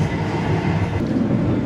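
Aboard the Argo Bromo Anggrek passenger train, a steady broadband rumble of the running carriage fills the space, close and continuous with no talk.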